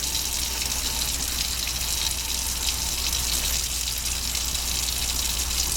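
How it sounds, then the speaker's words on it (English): A sink tap runs after hand washing, a steady, close gush of water pouring without a break, loud and unchanging from start to finish. "you should still leave the water running"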